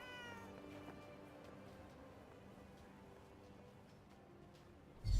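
A cat meows repeatedly in the video game Forspoken, soft and fairly quiet over a low ambient background, ending with a brief louder thump.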